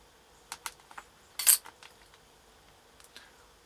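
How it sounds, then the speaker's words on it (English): Knife chopping the bumpy end off a polymer clay swirl cane, a few light sharp taps and clicks on a hard work surface with one louder cut in the middle, close and quiet, no talking. "So I'll just chop this bumpy end off."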